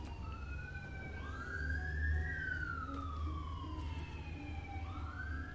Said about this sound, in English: Sorry if you can hear sirens.